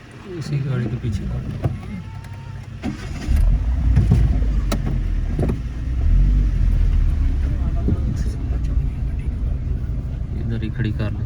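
A car on a mountain road at Al Amerat, Oman, rumbles low and steady as it drives and is pulled in to park, its engine drone continuing throughout while people talk over it.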